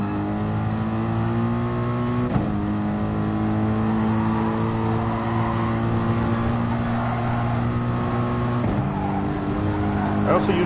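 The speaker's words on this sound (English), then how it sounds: "I shifted a little bit early to try to get the back end to come around" A race car in Gran Turismo Sport on the Autodrome circuit gives a loud, steady engine drone, broken by two abrupt gear shifts as it brakes and the rear end swings around.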